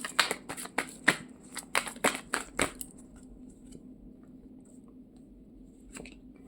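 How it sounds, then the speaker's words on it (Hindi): Tarot cards are shuffled and drawn by hand, a quick run of crisp, close riffling slaps over the first three seconds, then a quiet pause and one last soft card snap near the end. "पहले एनर्जी के लिए मैं सिर्फ 5 कार्ड्स निकालूंगी।"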